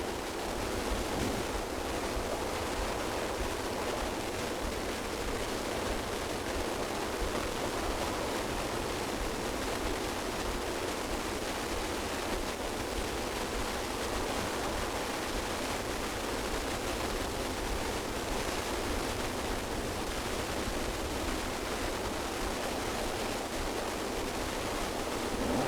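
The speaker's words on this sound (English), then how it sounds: "I'm on what is supposed to be the beach at Port HOUSTOCK." Continuous broadband roar of waves breaking on the beach at Porthoustock on the Lizard peninsula in February, steady and unbroken throughout with no voices.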